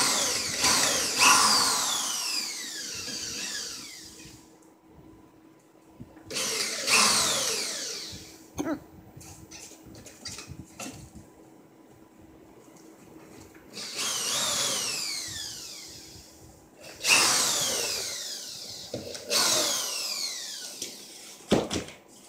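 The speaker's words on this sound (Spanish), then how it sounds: "Agujerar aproximadamente lo que es la mitad del barrote." A power drill bores into a wooden wall stud while a fireplace wall is prepared for tiling, with loud whining bursts that speed up and slow down, separated by quieter pauses and some handling noise.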